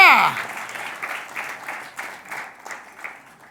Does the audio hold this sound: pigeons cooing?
no